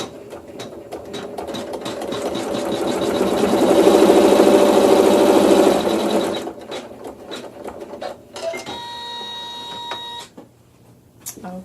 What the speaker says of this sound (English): I'm going to sew a seam.